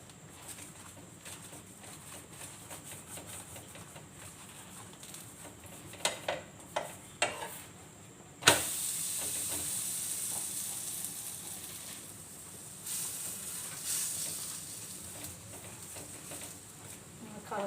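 Butter hits a hot pan with mutton bones and breaks into a bright, steady sizzle after a few clanks, frying continuously at moderate loudness.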